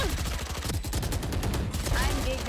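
Rapid bursts of gunfire in the video game Valorant crackle continuously at close range, dense and loud throughout, with a voice briefly audible in the mix.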